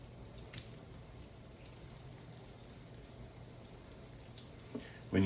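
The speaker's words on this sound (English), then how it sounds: "When you hear it sizzling, you know that it's nicely heated." Breaded chicken sizzling in extra virgin olive oil in a pan, a faint, steady crackling fizz close by throughout, with a louder bump right at the end.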